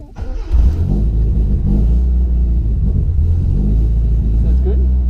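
A Holden Gemini car engine fires up after a brief crank, settling into a steady, loud, close rumbling idle that continues throughout, with people talking over it.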